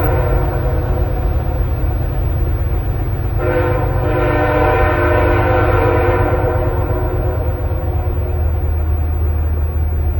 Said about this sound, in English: a busy rail line that runs day and night and announces its approach to all the crossings